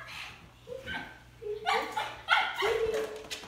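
A dog barks and yips several times in short, uneven bursts, fairly close, with a faint steady hum underneath.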